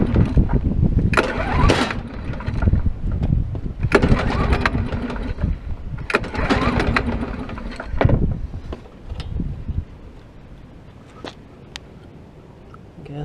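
The 1987 Snapper V212 riding mower engine cranks repeatedly without starting, several loud grinding bursts separated by pauses, close up with some wind noise.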